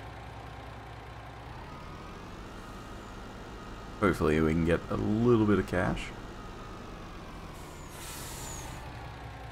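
A truck in Farming Simulator 19 runs with a steady, low engine drone that continues without a break, and someone talks briefly over it midway through.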